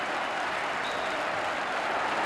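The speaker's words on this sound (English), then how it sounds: "And he's getting some tremendous applause." A football crowd applauds steadily at an FA Cup quarter-final between Leicester City and Shrewsbury Town, a dense, even wash of clapping from a large stand that holds constant throughout.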